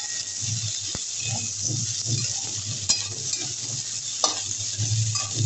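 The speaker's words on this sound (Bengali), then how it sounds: "পেঁয়াজটা একটু হালকা ভাজা হয়েছে। এর মধ্যে আমি আলুটা দিয়ে দিচ্ছি।" Onion and potato stirred and frying in a pan while cooking a Bengali fish curry, with a steady close sizzle and repeated scraping stirs, plus an occasional clink of a utensil against the pan.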